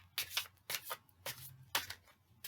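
Tarot cards being shuffled by hand, four quick crisp riffling bursts at a steady rhythm, close and clear against a quiet background.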